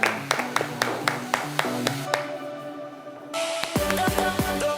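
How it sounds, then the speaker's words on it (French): Scattered handclaps ring out in a French television studio for a guest, a few sharp distinct claps before a musical jingle takes over. "Merci de faire un tonnerre d'applaudissements"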